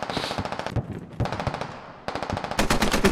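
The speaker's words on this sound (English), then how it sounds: "That's where the gunfire is." Gunfire in the military shooter game Squad, loud rapid automatic bursts with brief gaps between strings of shots, close and dominant with no talk over it.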